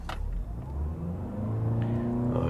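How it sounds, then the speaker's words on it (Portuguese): Toyota RAV4 Hybrid accelerating in sport mode with the electric motors and combustion engine driving together, a steady low engine drone rising in pitch, heard from inside the cabin, with no one speaking. "Modo esporte, e vamos acelerar o carro, vamos ver como que é o nível de ruído nessa aceleração aqui."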